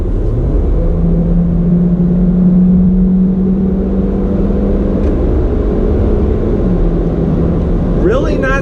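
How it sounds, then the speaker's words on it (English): A 2019 Hyundai Elantra GT with a naturally aspirated 161-horsepower engine accelerates hard, a loud steady cabin drone rising in pitch across several seconds, then a brief shift dip before pulling again, with a voice near the end. "Let me go ahead and get on the loud pedal."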